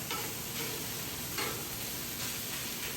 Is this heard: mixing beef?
yes